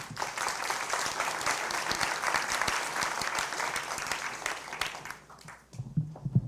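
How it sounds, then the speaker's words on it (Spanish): At a criminology conference, an audience applauds a law scholar with steady, moderately loud clapping that fades out near the end as a voice begins. "Fuertes palmas, por favor."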